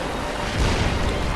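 A fully upgraded +6 cannon fires during a Bloodborne boss fight against Rom, the Vacuous Spider, giving a dense, loud, sustained booming roar across the whole moment.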